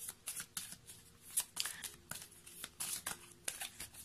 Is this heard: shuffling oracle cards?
yes